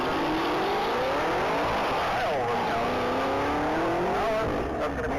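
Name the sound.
2015 Chevrolet Camaro racing at top speed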